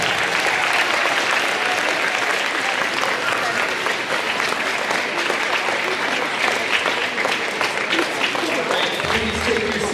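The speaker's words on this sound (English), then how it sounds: "let's give all these students one big round of applause" Sustained applause from an audience at a school awards ceremony, dense steady clapping filling the room for the full stretch, loud and close.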